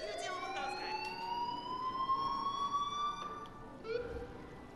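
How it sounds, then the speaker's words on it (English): An alarm siren in the Dead Island 2 video game wails with a steadily rising tone that holds high and then cuts off, with voices talking faintly beneath it. "Alarm."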